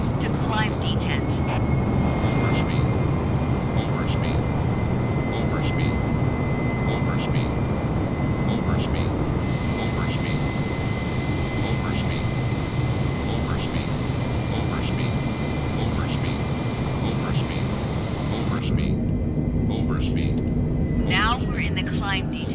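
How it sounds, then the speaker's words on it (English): Airliner jet engines at climb thrust in a flight simulator game give a loud, steady roar with a high whine held for over twenty seconds; the tone thins out near the end. "Adjust the thrust levers to climb detent."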